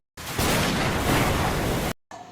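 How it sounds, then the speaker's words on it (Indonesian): Deep rumbling roar of the kind heard before a tsunami, like a distant explosion: a loud, dense broadband rush lasting nearly two seconds, cutting off sharply, then a brief quieter tail. "Suara ini terdengar seperti gemuruh yang dalam atau suara ledakan yang jauh."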